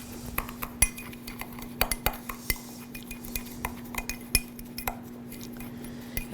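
Metal utensils stir nutmeg into a dish, giving a steady run of light, close clinks and scrapes against the bowl with a faint hum underneath.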